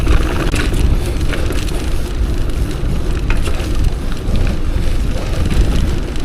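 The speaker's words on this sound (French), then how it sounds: "ça coupe un peu les bruits du vent." Strong wind buffets the microphone in a constant, loud roaring rush that never lets up.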